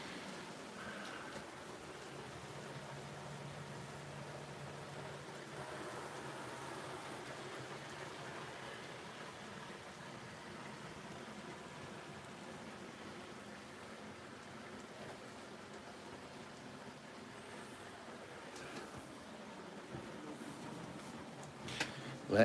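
Soft, steady rain falls outside an open window, a faint continuous hiss with no break, and a voice murmurs now and then under it.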